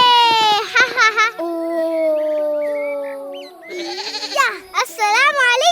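A cartoon goat, a sacrificial animal for Eid, bleats in wavering, nasal cries: a burst near the start and another toward the end, with voices talking in the stretch between.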